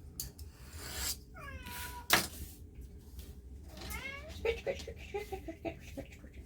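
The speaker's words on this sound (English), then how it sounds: "He's a grumpy cat." A grumpy cat lets out several drawn-out, complaining meows in close succession, loud and near, with a sharp clatter partway through and faint voices in the background.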